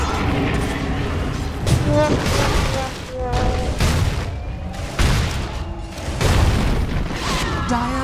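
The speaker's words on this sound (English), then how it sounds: "Middle tower has fallen." Dota 2 middle tower collapsing under attack, a series of heavy booming crashes and rumbling bursts that rise and fall across several seconds amid dense game sound effects.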